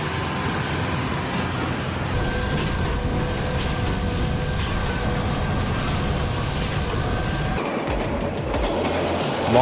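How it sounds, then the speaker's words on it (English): A long freight train of gondola cars and TLX tank cars rolls through a remote frozen mountain corridor, a steady loud rumble of wheels and rail with faint squealing tones throughout and a brief shift in texture near the end. "Long freight train with Gaddocks and TLX tank cars hauling through a remote frozen mountain corridor."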